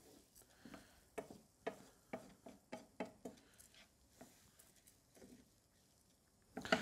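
Rice toasting in fat for risotto is stirred with a wooden spoon, giving a soft patter and a series of light, irregular scraping clicks over a faint sizzle, quiet and close with no talking.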